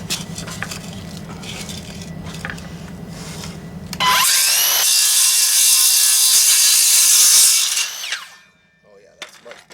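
A hand saw cuts through a block of beeswax with a loud, steady rasping stroke that runs for several seconds, then stops, following a quieter low hum at the start.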